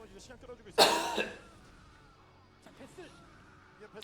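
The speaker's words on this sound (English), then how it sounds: "I need to cough a little bit" A single loud, harsh cough bursts out, followed by quieter throat sounds and faint background noise.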